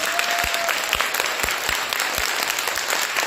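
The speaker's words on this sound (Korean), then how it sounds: "한번 좀 큰 뜨거운 박수 좀 부탁드립니다" An audience at a guest talk gives warm, sustained applause for Jeon Woo-won and his mother. Clapping is dense and even, with a few heavier thumps scattered through it.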